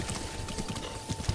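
Horse hooves clip-clop in a rhythmic, steady pattern as a mounted horse moves in the video game The Legend of Zelda: Breath of the Wild, fairly close and clear with a low background tone.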